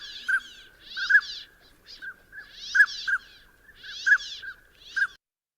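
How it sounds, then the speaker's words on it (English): Northern pintail in a marsh giving repeated clear toots mixed with raspy tent-zipper rattles, several bouts spaced at a steady rhythm, close and alone with no other noise. "We've got the toots and tent zipper of the northern pintail."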